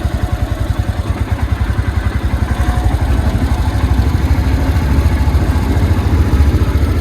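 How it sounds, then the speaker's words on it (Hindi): Motorcycle crossing a bridge in the Devprayag area, its engine chugging in a steady low rhythm throughout, loud and close, with no talk. "इसी के ऊपर से जा रहा हूँ मैं बाइक लेके।"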